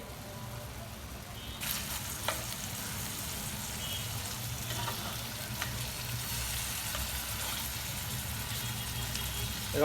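Chicken pieces fry steadily in a hot pan for butter chicken, a dense continuous sizzle with occasional louder crackles and stirring scrapes, close and fairly even throughout.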